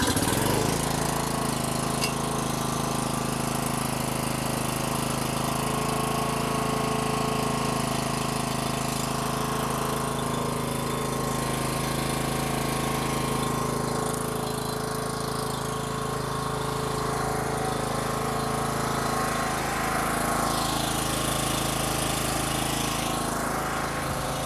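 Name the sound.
Homelite 1800W portable generator engine running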